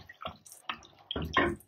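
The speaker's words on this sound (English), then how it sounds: "so I am going to add in some water" Water is poured in bursts into a cooking pot of meat, with several close splashing pours and short pauses between them.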